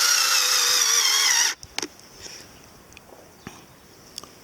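A screw is driven by a power drill into the felt sole of a worn shoe: a loud, steady high whirring burst for about a second and a half, then stopping abruptly, followed by a few faint clicks.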